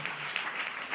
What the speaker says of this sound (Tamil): நல்ல கைத்தட்டி கர்த்தருக்கு ஸ்தோத்திரம் செலுத்துங்க.